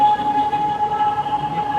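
A train passing close by, with a loud, steady rumble and a sustained high whine running through the whole moment, and no voices.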